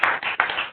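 Audience applauding at a church gathering, with a few distinct bursts of clapping in quick succession, close and moderately loud.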